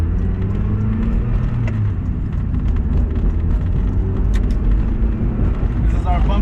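A 1999 Mazda Miata with a 5-speed gearbox drones steadily while driving, a continuous low engine rumble with road noise running through the whole stretch, close and loud, with a voice speaking over it.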